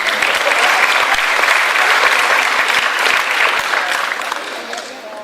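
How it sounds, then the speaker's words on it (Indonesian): A large, loud audience gives sustained, dense applause at a talk with a former Indonesian diplomat, continuous clapping filling five seconds before tapering slightly at the end. "Ya, tepuk tangan silakan."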